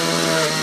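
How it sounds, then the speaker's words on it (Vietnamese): A chainsaw runs loud and close, cutting through an upper branch high in a tree, with a steady, buzzing engine roar throughout. "bây giờ là mình cưa đứt cái nhánh trên ha"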